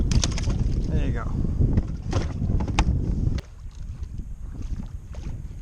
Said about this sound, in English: this wind is getting a little out of hand